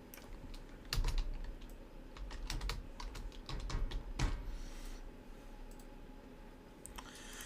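Typing on a computer keyboard while building a real estate landing page: bursts of close, crisp key clicks in an uneven rhythm with brief pauses, heard alone without speech.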